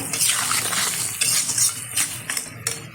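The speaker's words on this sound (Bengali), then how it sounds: "ভালোভাবে এবার নেড়ে ছেড়ে নেবো।" A spoon scrapes and clinks in a pot while chicken curry with spices simmers and sizzles. The strokes are steady and close, with bright metallic scrapes recurring over the bubbling.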